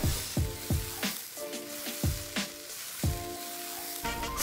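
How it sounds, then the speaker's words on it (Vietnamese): Split mung beans stir-fried with salt in a hot pan, sizzling steadily, with repeated short scraping strokes and squeaky metallic tones from stirring at a regular rhythm. "Cho thêm nửa muỗng cà phê muối và xào thêm 1 phút."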